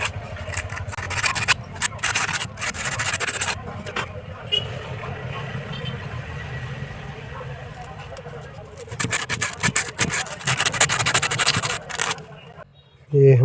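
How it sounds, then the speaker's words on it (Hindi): A sewing machine part is rubbed slowly by hand to smooth it, producing repeated close scraping and grinding strokes in uneven bursts, with a voice speaking at times. "ये जो है इसे आराम से धीरे धीरे रगड़ के हम इसे चिकना कर लेंगे"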